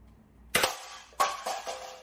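Dart Zone Pro MK 2.1 toy blaster firing darts at a range test, with three sharp, close pops spaced about half a second apart, each trailing into a brief whooshing decay, and no talk.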